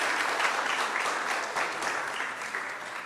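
Steady crowd clapping at a university convocation ceremony, a continuous even wash of applause throughout.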